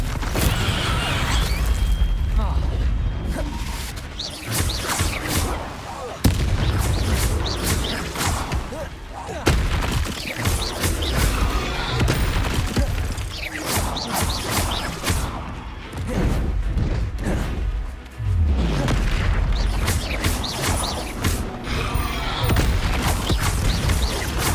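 Confringo blasting-spell explosions in the video game Hogwarts Legacy, loud repeated bursts and crashes of combat over a long stretch of dense battle noise.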